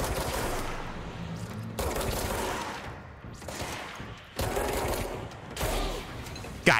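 Hip-fire gunshots in the video game Control crack out in several dense bursts of rapid firing, separated by brief lulls, loud and close with mechanical clatter between volleys.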